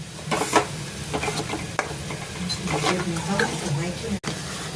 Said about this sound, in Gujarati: આ દૂધ હવે ઉકળી રહ્યું છે